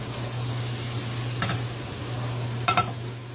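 Butter sizzling in a hot pan for pancakes, a steady hiss throughout with two brief scraping stir strokes, close and alone.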